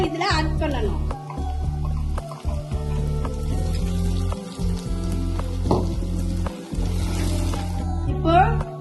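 Ground Kashmiri chili paste sizzles and fries with onions in a pan for a chicken gravy. The steady, close crackle runs under someone talking almost throughout.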